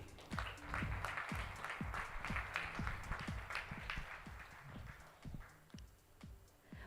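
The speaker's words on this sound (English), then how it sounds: "Once again, let's applaud for him" Audience applause at a JASIC partner meet in Bengaluru, irregular clapping from a modest crowd, faint and distant, with sharp individual claps standing out.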